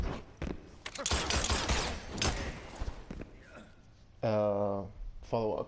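Erron Black's gunfire shots in the fighting game Mortal Kombat X: a burst of rapid, close bangs and impacts, followed by a short tonal effect and a voice from the game.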